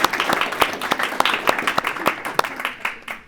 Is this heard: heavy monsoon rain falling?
no